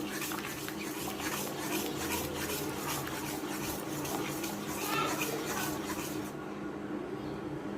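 Mango puree being stirred into heated milk in a pot, with a steady close scraping and stirring texture that runs throughout and cuts off near the end.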